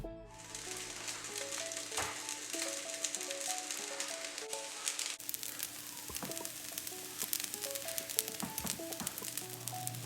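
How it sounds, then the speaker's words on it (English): Cooked jasmine rice and beef sizzle in a hot cast iron skillet as they are stirred, a close, continuous crackling fry punctuated by scraping clicks of the utensil against the pan. "I added my cooked jasmine rice to the hot pan with the beef, and I'm just stirring it all around to get it nice and coated"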